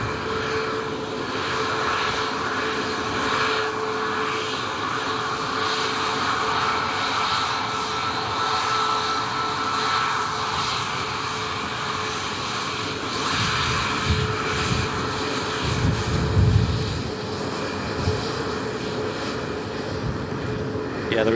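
Titan Airways airplane landing at Manchester Airport in windy conditions, a broad steady engine roar held throughout, heard from a distance with wind gusts, swelling slightly near the end.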